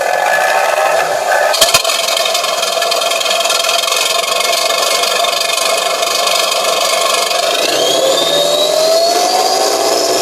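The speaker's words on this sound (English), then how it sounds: "engine running." A loud engine runs steadily with a whining drone that climbs in pitch near the end, after a brief sharp click early on, played through a stock speaker.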